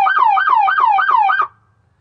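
An emergency vehicle siren on its yelp tone, a rapid repeating electronic whoop of about five quick cycles, loud and clear with no other sound, stopping abruptly.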